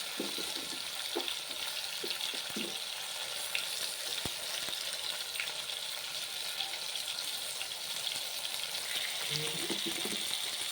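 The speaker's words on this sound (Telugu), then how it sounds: "మునక్కాయలు వేసి కాసేపు వాడాలండి, వాడితే తొందరగా ఉడుకుతుంది." Drumstick pieces and radish sauté in a pan with a steady, broadband sizzle that holds evenly throughout, broken by a few faint clinks and taps of a utensil and no talking.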